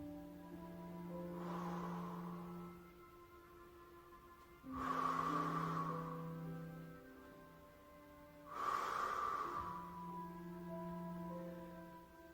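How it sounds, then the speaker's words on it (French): Three deep, slow breaths taken during a Pilates exercise, each a broad breathy swell a few seconds long with steady pauses between, close and fairly soft, with no talking. "Et je fais 3 grandes respirations."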